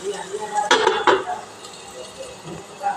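A metal lid clatters twice onto a cooking pot holding turmeric-dusted potatoes for a banana flower dish, two close clanks in quick succession over quiet kitchen background.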